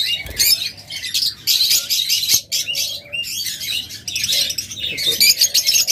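Pet lovebirds, budgerigars and cockatiels, a pair of master running-pair birds, chatter together in a dense, continuous mix of bright chirps, squawks and tweets, steady and fairly close, with no voices over them.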